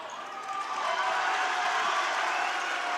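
Steady roar of a crowd cheering at an NCAA women's college volleyball match between Trinity University and Southwestern, a broad loud swell that holds throughout without a break.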